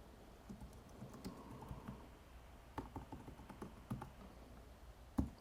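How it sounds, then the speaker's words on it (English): Typing a chat reply on a computer keyboard, with soft, close key taps in irregular clusters and a sharper final keystroke, quiet and with no speech. "just click in the beige area and then type in the light blue field."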